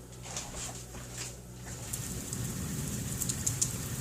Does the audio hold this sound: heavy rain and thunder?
yes